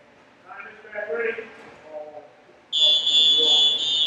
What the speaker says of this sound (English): the electronic whistle has sounded